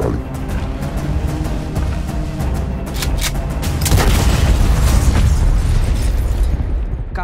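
Bombs explode in the city in a series of deep, loud booms with sharp bursts and crackling debris, building to a heavier roar near the middle and continuing close and forceful.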